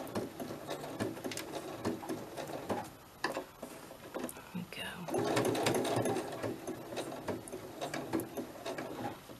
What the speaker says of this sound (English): That's all sewn around there.